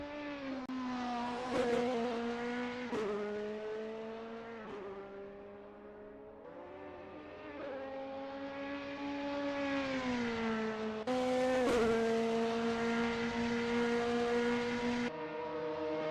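DTM race cars lapping Imola in a sim racing game, a steady droning engine note rising and falling through gear changes and braking, continuous and fairly loud with no voices.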